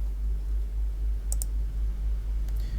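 Two short computer mouse clicks, close and crisp, come about a second apart while a user creates a new retailer ID on a PAN portal, set against a steady low hum.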